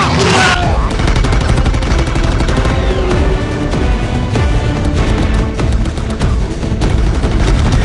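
Dense gunfire from a Transformers: Age of Extinction movie scene, a loud continuous barrage of shots and booms with a musical score running underneath throughout.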